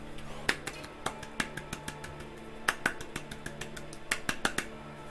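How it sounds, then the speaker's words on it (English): Sharp, irregular claps or snaps from a single person during a Chrono Cross gaming stream, a loose, uneven string of crisp hits over a faint background hum. "Yes, please clap."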